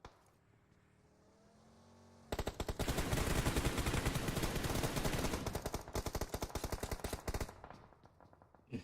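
Rapid automatic gunfire in a video game bursts in loud and close, a dense unbroken rattle of shots lasting several seconds before cutting off, with a quieter engine-like hum before and after.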